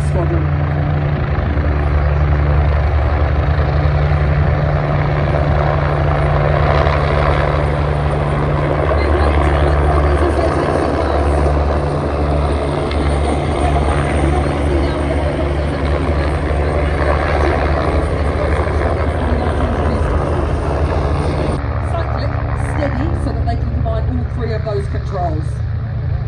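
An NH-90 and an SH-2G Seasprite military helicopter fly at an airshow at Wanaka, a continuous loud rotor and engine drone with shifting intensity as they pass, under a commentator speaking over a public address.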